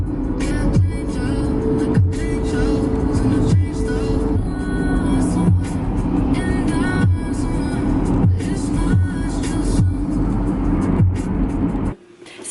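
A car drives along a road, heard from inside as a steady, loud low rumble with occasional soft thumps, then cutting off near the end.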